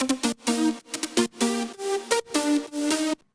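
A bright, buzzy layered synth lead plays a short rhythmic melody of choppy notes, then cuts off abruptly.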